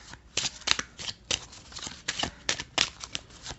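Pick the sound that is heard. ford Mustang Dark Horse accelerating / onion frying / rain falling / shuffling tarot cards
shuffling tarot cards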